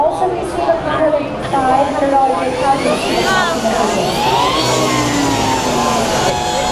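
A Harley-Davidson electric motorcycle whines as it accelerates to around 45–50 mph, its pitch sweeping up and down with wind rush, while a person talks over it.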